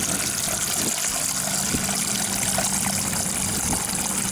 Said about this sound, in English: All right, filling up with water.